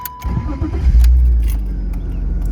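A 1999 BMW 328ic E36 engine cranks and catches after a brief key jangle, then settles into a loud, steady idle with a deep low rumble close by.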